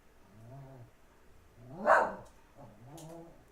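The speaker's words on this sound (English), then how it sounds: "Oh, that's my dog barking" A pet dog named Heidi barks three times in short spaced bursts, moderately faint and somewhat distant, as if heard through open windows on a calm day.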